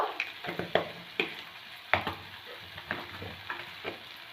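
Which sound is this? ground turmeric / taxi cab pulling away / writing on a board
ground turmeric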